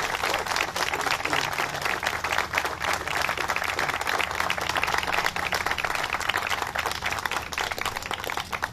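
Sustained audience applause at a New York event opening an LGBT memorial, a steady dense wash of many hands clapping throughout with no break.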